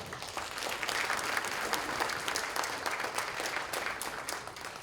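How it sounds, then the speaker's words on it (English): Audience members at a summit main stage clap in a dense, sustained round of applause, evenly loud and close, with no voices breaking through the steady patter. "A big round of applause for everyone."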